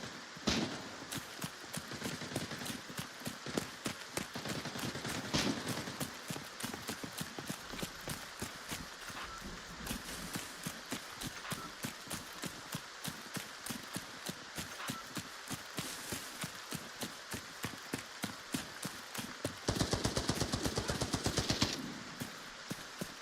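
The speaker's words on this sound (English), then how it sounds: "Sounds like he's shooting." Rapid gunfire from a shooter in the game Arena Breakout, with dense repeated shots running nearly the whole time and a louder, heavier burst near the end.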